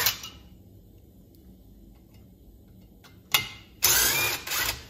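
A cordless impact driver backs out loose screws on a blown-up chainsaw, giving a short burst of rattling whirr, a pause, then a longer loud buzzing run close by after a quiet stretch.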